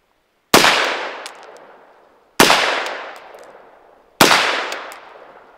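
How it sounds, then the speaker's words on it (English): Three unsuppressed rifle shots from a 7.5-inch .223 AR, each a loud sharp crack with a decaying echo, spaced about two seconds apart, with no talking. "here's 3 shots on the unsuppressed setting"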